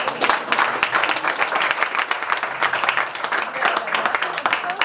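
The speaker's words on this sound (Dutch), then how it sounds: "Fleur Gevers, nog een applaus uiteraard." Studio audience of a TV show breaks into steady applause, many hands clapping in a continuous, even patter at fairly strong volume, with a few faint voices underneath.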